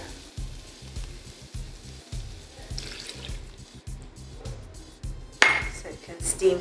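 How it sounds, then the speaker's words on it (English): A cup of water is poured into a hot pan of sizzling curried zucchini and cauliflower, with utensil clinks and scraping first, then a sudden loud hiss and splash as the water hits. "And to that, I'm going to add a cup of water."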